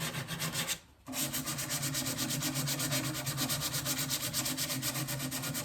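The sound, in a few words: hand sanding painted wood of an old dresser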